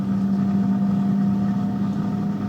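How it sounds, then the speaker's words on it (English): A steady mechanical hum with a low drone runs continuously, the fan of an Instant Pot Vortex air fryer whirring nearby in a kitchen. "You can hear the fan going."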